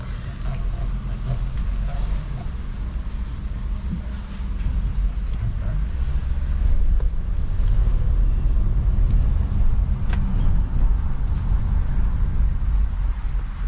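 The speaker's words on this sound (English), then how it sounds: "Put it in drive, and we're gonna go ahead and drive" A Nissan Pathfinder on the move after a front brake replacement gives a steady low engine and road rumble that swells as it gets going, with wind buffeting and a voice heard inside.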